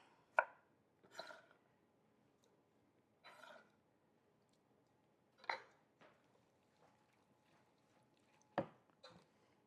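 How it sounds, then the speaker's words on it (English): Firm tomatoes chopped with a kitchen knife on a cutting board, about six or seven isolated crisp knife strikes at irregular intervals, close and quiet in an otherwise still room. "It's much easier if your tomatoes are firm. They're just easier to cut."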